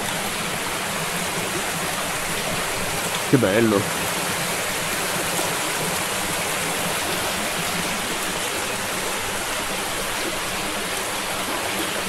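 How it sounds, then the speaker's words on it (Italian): A river flows past an abandoned tannery factory, a loud steady rushing wash that continues throughout, with a man's brief remark near the start. "siamo proprio sul fiume."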